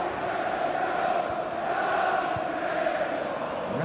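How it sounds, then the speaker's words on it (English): Stadium crowd noise from a FIFA 17 Premier League match, Sunderland v West Brom, with a steady loud roar swelling into a broad oohing murmur throughout. "Two oohs around the crowd for a 3-minute add-on"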